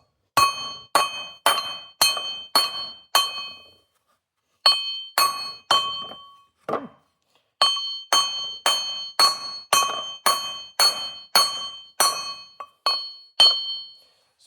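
Steel lug studs being hammered through the hub of a Kawasaki Mule 4010 utility vehicle: repeated sharp, ringing metallic strikes in loud, steady bursts with brief pauses between sets, close by and with no voices.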